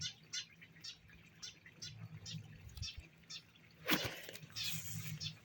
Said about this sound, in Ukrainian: Може, птиця якась співає на вербі і не видно її